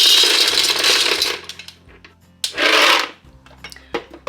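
Dry pasta poured onto a kitchen scale in two loud, rattling bursts, with a few scattered clicks and small clatters between and after, close up and with no voices.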